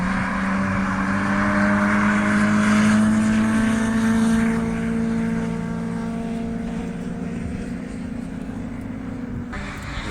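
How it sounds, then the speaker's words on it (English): A Honda Integra and a Nissan GTR race nose to tail at Donington Park, a sustained engine drone rising then easing as the cars pass at moderate distance, with wind noise and no talking. "This Integra's been chasing this GTR for ages now."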